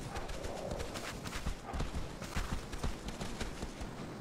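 A horse's hooves clip-clop rhythmically at a fast gait across the ground in the video game Shadow of the Colossus, a steady run of close, distinct thuds heard alone.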